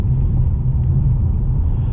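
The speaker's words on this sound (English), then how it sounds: "It's got a bit of road noise to it too, because obviously the suspension is a little stiffer" Steady road noise inside a 2021 Ford Mustang 2.3L with a stiff suspension: a continuous low rumble fills the cabin at a constant loud level while it drives, with no voices.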